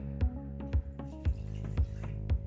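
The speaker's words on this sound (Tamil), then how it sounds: "ரெண்டு கப் அளவுக்கு தண்ணி ஊற்றிக்கணும்" Water splashing and trickling into a bowl of yogurt, with a steady run of liquid punctuated by regular plopping drips, soft and close.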